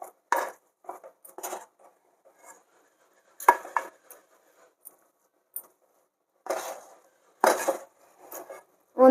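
Ragi sangati is stirred in a large pot, with scraping and knocking bursts from the spoon against the pot that come and go in irregular clusters with quiet gaps between them.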